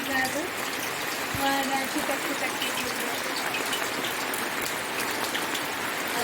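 Steady rain falls outdoors at a rural Indian home, a dense, even hiss that continues throughout, with a brief spoken word near the start.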